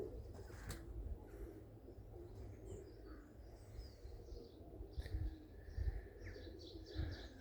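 Young Irish Old School Tumbler pigeons coo softly outdoors, low murmuring calls with a few chirps, under faint wind and ambient noise.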